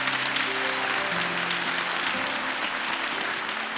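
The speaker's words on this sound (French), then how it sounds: "Je pense qu'on peut vraiment l'applaudir." Audience applause at a French-language local TV broadcast in Lac-Mégantic, steady dense clapping from a crowd sustained throughout at moderate level, with faint tonal background underneath.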